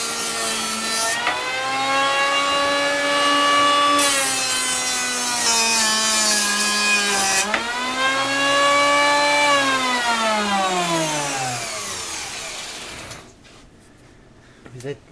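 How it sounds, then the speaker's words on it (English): An old planer mounted upside down runs wooden boards through to straighten their edges, a loud steady whine with a strong pitched hum that shifts as each board passes, then cuts off near the end. "Cousin Brucey has taken an old planer and mounted it upside down so that we can run these things through here and put a nice straight edge on them"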